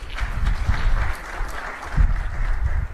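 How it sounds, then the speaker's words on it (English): Audience applause at a live investment event at a Vijayawada hotel, a crowd clapping in uneven waves that swell and dip over a few seconds, with no speech on top. "Can we have a round of applause,"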